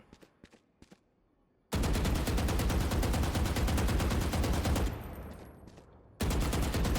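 Vandal rifle from VALORANT firing in long sustained automatic bursts, a loud dense rattle of rapid shots, pausing briefly then resuming, with a few faint clicks and steps before the first burst.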